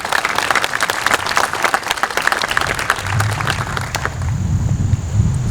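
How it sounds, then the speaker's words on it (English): Audience applause at a 9/11 memorial ceremony, steady dense clapping that carries through the whole stretch, with a low rumble of crowd noise building toward the end. "How about a round of applause?"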